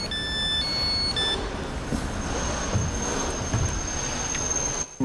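A passenger train runs on the rails with a steady rumbling roar and rhythmic wheel noise, high squeals and whines drifting over it, heard from close by and loud before a brief dip at the end.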